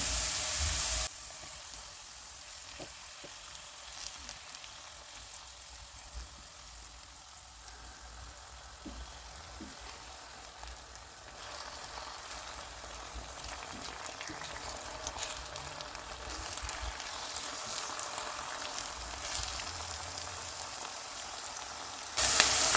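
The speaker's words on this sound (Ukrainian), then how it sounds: "До злегка підсмаженої цибулі додаю нарізані гриби і смажу до випаровування вологи приблизно 10 хвилин." Steady sizzling of sliced mushrooms and onion frying in a pan, a continuous hiss with small pops and occasional utensil scrapes, close and even throughout.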